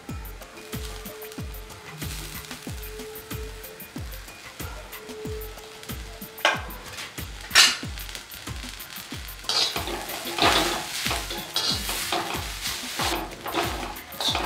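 Scraped coconut fries with browned onions for a Malwani crab curry, a steady sizzle under rhythmic, regular scraping strokes of a spoon against the pan, growing louder and busier toward the end.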